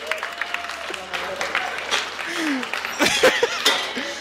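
Studio audience clapping on a gaming show, brief and uneven, mixed with voices and scattered background noise.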